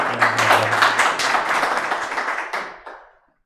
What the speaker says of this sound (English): Please, can we give a hand of applause to these two gentlemen?